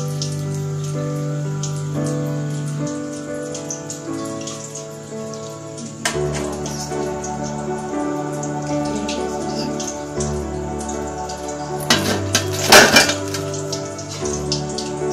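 Poornam boorelu fry in hot oil with a dense, steady crackle and sizzle, punctuated by brief louder bursts as the pieces are stirred or moved, and no one speaks.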